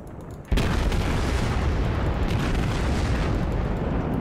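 A heavy boom erupts suddenly in the naval battle game World of Warships as a shell hits a ship, followed by a loud, sustained roaring rumble of explosion that fills the rest of the stretch.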